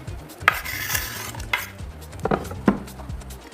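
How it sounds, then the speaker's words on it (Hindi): Onions go into a pan of fried potatoes and are stirred, giving scraping and clinking sounds with a light sizzle, a few sharper knocks against the pan, no talking. "ये हम डालते हैं इसमें प्याज"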